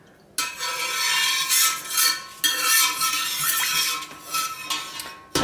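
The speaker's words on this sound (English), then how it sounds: "Give this a stir." Hot lye solution being stirred into oils in a pot on a stovetop for hot-process curd soap, with a utensil scraping and clinking against the pot in close, continuous strokes that stop abruptly twice.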